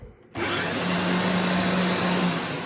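A Dyson DC04 upright vacuum cleaner switches on after a brief quiet moment and runs steadily with a loud, constant motor whine and rushing air.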